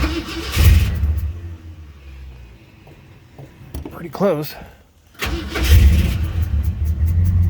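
An old car engine cranks and catches, rumbling up loudly, with a short spoken remark in the middle before the engine roars again.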